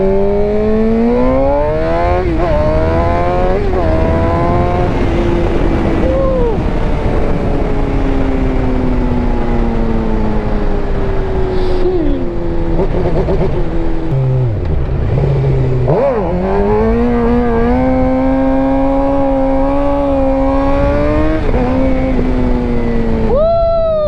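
A 750cc sport bike engine heard close up while riding, rising and falling through gears in loud revving sweeps, with steady wind roar underneath.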